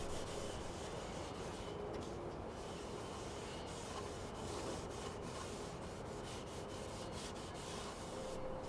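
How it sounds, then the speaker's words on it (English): Wipe-on oil finish is rubbed by hand over a wooden one-string psalmodikon, a faint, steady soft rubbing and swishing that continues without pause. "To finish it, I'm using a wipe-on oil on the whole thing."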